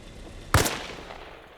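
A single sharp, loud armor-piercing round strikes a vehicle in Arma Reforger, with a brief crack and a short rumbling tail that fades into low background hum.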